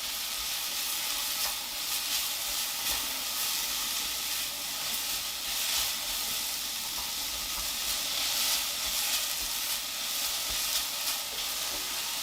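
Big chunks of onion sizzle and fry steadily in a pan, with a continuous bright hiss and occasional crackles, close and fairly loud, with no talking.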